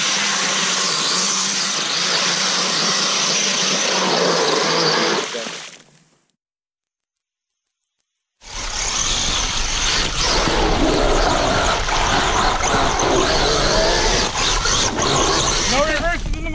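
A truck engine revving as it drives through a mud pit at a 2018 off-road competition, loud and close, cutting out briefly before roaring back up with people talking over it.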